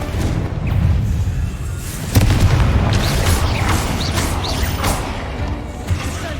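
A Confringo spell explosion in the Hogwarts Legacy video game, loud booming blasts and crashing rumble filling the scene, with other spell effects and brief spoken incantations around it.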